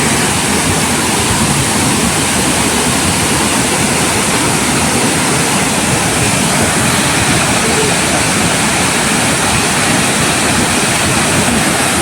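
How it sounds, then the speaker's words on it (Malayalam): Haritheerthakkara waterfall at Sreenaduvil, Kannur, with water falling hard: a steady, loud, broadband roar of rushing and splashing water that runs unbroken through the whole stretch. "നല്ല രീതിയിൽ തന്നെ വെള്ളം വീഴുന്നുണ്ട്, നല്ല ശക്തിയോടെ വെള്ളം വീഴുന്നുണ്ട്."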